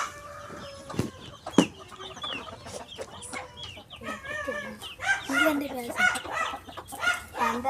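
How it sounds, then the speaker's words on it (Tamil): Chickens and roosters, including fighting cocks, cluck and call in a farmyard, with scattered squawks and sharp bursts of clucking over a low background, and human voices faintly in the mix. "சேவல்லாம் இருக்குது, போர் சேவல் இருக்குது, நிறைய சேவல்லாம் இருக்குது"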